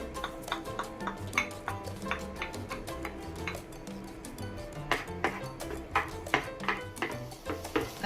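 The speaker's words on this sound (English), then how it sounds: "I'm going to saute the onion and the garlic till fragrant." Onion and garlic sauté in a pan while a utensil scrapes and taps against it, giving frequent sharp clinks over a low sizzle, close by and without talk.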